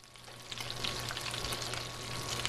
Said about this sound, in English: kind of a medium-high heat so that they're browning, but not like burning too fast and burning the butter